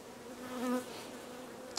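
Wasps or bees buzzing close by near a beehive on a farm, a steady insect drone that swells and peaks midway before fading, with a brief click near the end.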